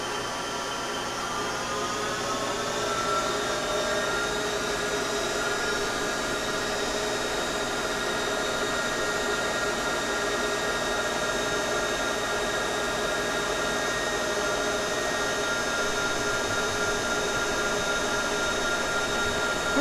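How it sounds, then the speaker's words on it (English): A Monarch 10EE lathe turns a Mini-14 gas bushing, giving a steady loud mechanical whine with layered tones that hold constant and rise slightly early on, with no talking. "I'm going to feed it in 5 thousandths and crank it up a little bit."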